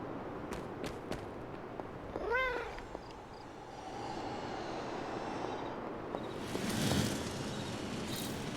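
A cat meows in the Marvel's Midnight Suns video game, a short run of rising-falling meows near the middle over steady ambient game background and a swelling later whoosh.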